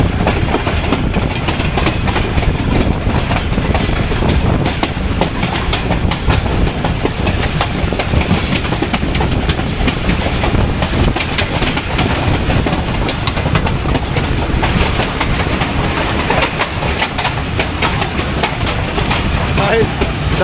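Pakistan Railways ZCU30-6308 diesel locomotive hauling a train from Khanewal to Lahore, a loud, steady, continuous roar of engine and rolling wheels with rhythmic clickety-clack of the cars throughout.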